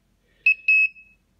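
Two short electronic beeps from a 3D orientation sensor being calibrated on a satellite antenna rotator, the second held longer, ring out alone in near silence.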